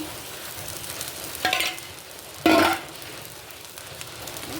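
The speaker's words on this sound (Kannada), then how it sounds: "ಸಾಸಿವೆ ಜೀರಿಗೆ ಹಾಕೊಂಡಿದೆ." Mustard seeds and cumin dropped into hot ghee flare into two sharp bursts of crackling sizzle, the second louder and longer, over a quiet background hiss. Up close, with no speech.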